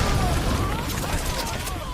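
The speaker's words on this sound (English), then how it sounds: "okay, threw a grenade." A grenade explodes in the Metal Gear video game, a dense rumbling blast and crackle that fills the whole moment loudly with no quieter stretch.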